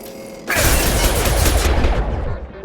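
Gunfire from the Mass Effect 2 video game erupts suddenly into a dense, sustained burst of rapid shots, loud and close, tailing off after about two seconds.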